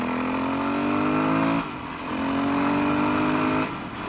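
A used 2007 dual-sport motorcycle revs twice, each rise a loud, steady, slightly climbing engine drone, with a short dip back to idle between them, close up and with no talking.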